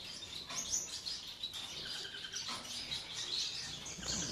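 Bengalese finches chirp and twitter in quick, high bursts over a steady background hiss, fairly close and moderately loud.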